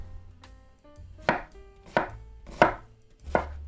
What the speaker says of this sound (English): Just cut them down into nice little pieces. I'm just going to do that to all my onions.